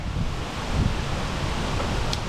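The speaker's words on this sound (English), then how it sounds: "It's kind of a windy, sprinkly fall day here" Steady wind rushing and buffeting outdoors on a windy, drizzly autumn day, a continuous low roar with no voices.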